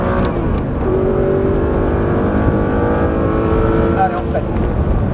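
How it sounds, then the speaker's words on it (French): An Audi R8 race car at a motorsport academy track pulls hard in fourth gear, its engine droning steadily and loud from start to finish with rising harmonic tones, while a driving instructor talks over it. "Allez, on accélère. Quatrième."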